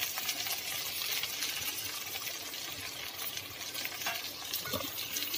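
Tomatoes and salt fry in a pan for kara chutney, giving a dense, steady sizzling hiss with light stirring throughout, close and fairly quiet with no voices.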